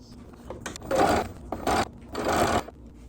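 Sewing machine stitching a quilt block to sashing with a quarter-inch seam, running in three short close bursts with brief pauses between them.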